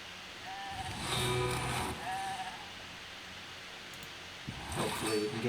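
Sheep bleats from the game RAID: Shadow Legends sound out twice in short wavering calls over a steady hiss of background noise, with a brief burst of other game sound near the end.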